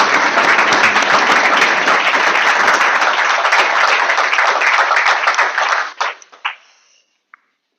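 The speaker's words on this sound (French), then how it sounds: "je vous propose d'accueillir nos 2 intervenants avec un tonnerre d'applaudissements" Debate audience giving a loud, dense round of applause to welcome two speakers, sustained for about six seconds before fading out in a few scattered final claps.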